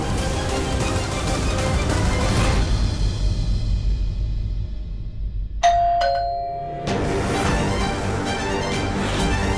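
An electronic doorbell chimes once, two clear bright tones ringing out and fading in a quiet indoor room, set between stretches of dense background music.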